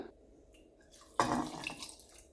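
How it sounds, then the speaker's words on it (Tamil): Second-extract coconut milk pours into a cooking pot for traditional black kavuni rice porridge, a soft liquid splash starting abruptly and running steadily for about a second, fairly close and moderately loud. "இப்போ நான் தேங்காய் பால் 2வது பால் விட போகிறேன்"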